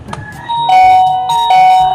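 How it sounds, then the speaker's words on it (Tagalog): An electronic doorbell chimes twice in quick succession, bright ringing tones, close and loud, with a little background noise before the first ring. "pipindutin ko yung doorbell nila para manilig nila ako"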